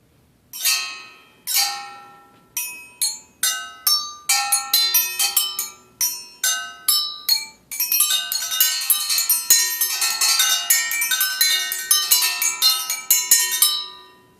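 Hardware store metal pipes struck like bells, first as single separate ringing strikes with long decays, then as a quick, dense run of overlapping chimes.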